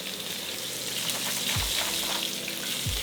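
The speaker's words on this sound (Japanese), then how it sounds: "こうやって、フライパンをねずらしながら焼き色をまんべんなくつけていった方がいいです" Steak searing in a frying pan that is being shifted around to brown evenly, with a constant loud hiss and sizzle that never stops and two brief low scrapes of the pan.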